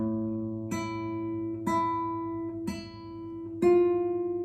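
A classical guitar plays a slow melody, 'La Tortue', single plucked notes ringing out one after another over a sustained low bass note, clear and close.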